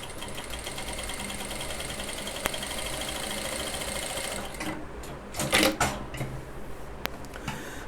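Industrial Usha sewing machine with auto trimmer running steadily and loud, a continuous motor hum and rapid needle clatter for several seconds, then slowing with a few sharp knocks and a brief burst of rattling as it stops.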